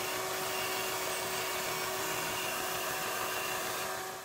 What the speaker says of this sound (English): So I'll cut that out with the bandsaw.